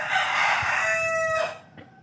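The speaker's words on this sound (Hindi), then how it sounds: "खूबसूरत मुर्गियाँ, दोनों मुर्गियाँ खूबसूरत मुर्गियाँ" A white rooster kept with hens crows once, loud and close, a long drawn-out call that tapers off, followed by a faint short cluck.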